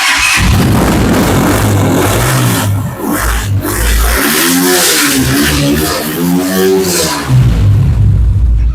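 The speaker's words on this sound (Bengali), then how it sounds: "বহু প্রতীক্ষিত সেই এক্সেল বাইকটির সাউন্ড শুনিয়ে দেয়" A Rusi XL V7 motorcycle engine idles loudly close by, then revs up and down in several rising and falling throttle bursts.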